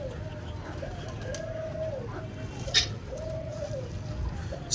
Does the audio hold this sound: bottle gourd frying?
no